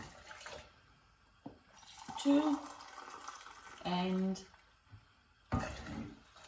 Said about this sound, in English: I'm going to put 3 mugfuls of boiling water in here.